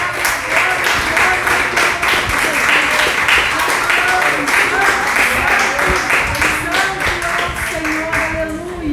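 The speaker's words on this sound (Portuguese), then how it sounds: "A salva de palmas para o Senhor." A church congregation breaks into sustained, loud clapping in praise, a dense and steady wash of hands lasting the whole stretch, with voices singing and speaking over it.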